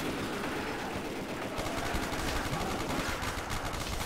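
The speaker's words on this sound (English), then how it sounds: "Like how I'm doing with this AUG, lighting them up." An AUG rifle fires in Call of Duty Black Ops zombies mode, a rapid stream of automatic shots at moderate volume with other game noise underneath and no speech.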